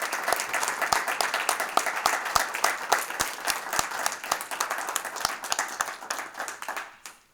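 A school board meeting audience applauds with sustained, dense clapping that carries steadily for several seconds, then thins out and fades away at the end.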